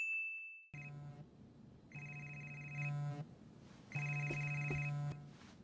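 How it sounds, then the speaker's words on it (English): A phone ringtone plays a repeating electronic ring pattern, several bursts with short pauses between them, fairly faint. "her phone as it rang in the next room over"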